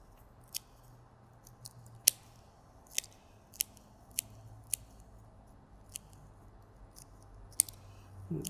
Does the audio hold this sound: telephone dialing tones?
no